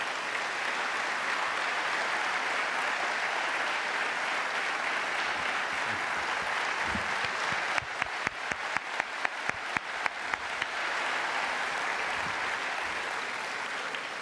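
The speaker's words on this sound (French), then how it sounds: "Enfin, vous pouvez l'applaudir." An audience applauds at the opening of a business conference, with sustained, even clapping that is joined midway by a run of loud, evenly spaced claps close by.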